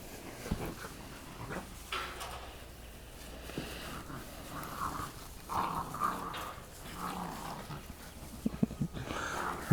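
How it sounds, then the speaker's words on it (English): A dog barks excitedly outdoors at a distance, with scattered yaps and rough bursts over several seconds, fairly faint against background noise and with no talk over it. "Dog's going crazy over there."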